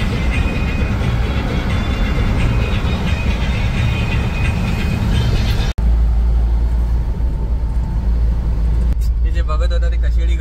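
A car drives down the winding Kasheli ghat road in the Konkan, giving a loud, steady road and engine rumble inside the cabin. Partway through, the sound cuts and a deeper, heavier drone takes over.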